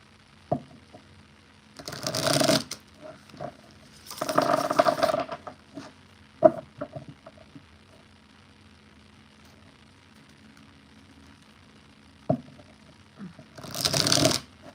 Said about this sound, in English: So let me just shuffle and then you can get the answer.